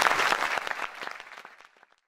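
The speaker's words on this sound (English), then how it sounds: "A round of applause, please." Audience applause following an award announcement at a university lecture session, a dense burst of clapping that starts loud and steadily thins out, fading to scattered claps and silence within about two seconds.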